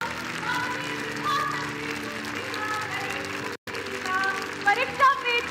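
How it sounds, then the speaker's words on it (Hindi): Loud applause from a large stadium crowd at Talkatora Stadium greeting an arriving dignitary, steady and sustained with music-like tones underneath, briefly cutting out near the end before resuming. "तालियों की जोरदार गड़गड़ाहट।"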